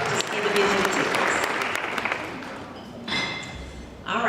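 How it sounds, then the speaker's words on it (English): An audience at a college hall of fame event applauds its sponsors, a moderate, steady round of clapping from a crowd that gradually thins out, with a few faint voices near the end. "A big round of applause to all of our sponsors"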